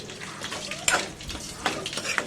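Raw prawns being mixed by hand with salt and chili powder in a bowl for a prawn curry, soft wet squelching and light clinks of the dish, close and intermittent, no speech.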